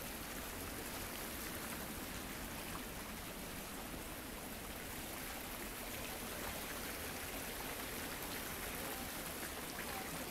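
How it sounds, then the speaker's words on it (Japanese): Water flows in a park within sight of Showa Kinen Park, a quiet, steady rush and patter that continues evenly for the whole stretch with no voices. "しばし水の音をね楽しんでね。"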